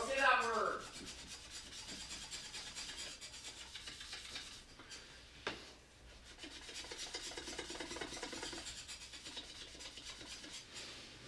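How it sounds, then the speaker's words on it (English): A moist board eraser rubs chalk off a board with a continuous close, gritty scrubbing rasp, quiet and steady throughout, with a short thump partway and no talk. "Let's get your trusty board eraser out. Make sure it's a little moist."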